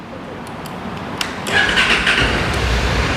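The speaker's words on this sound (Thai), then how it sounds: "เดี๋ยวฟังเสียงท่อคันนี้กัน" A stock-exhaust 2020 Honda CTX700N motorcycle with 844 km is quiet at first, then its starter turns over and the engine catches, settling into a close, steady idle rumble.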